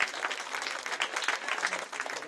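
An audience at a Sankranthi festival closing ceremony applauds with dense, steady clapping from many hands, loud and continuous for a couple of seconds.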